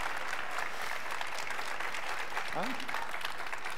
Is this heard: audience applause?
yes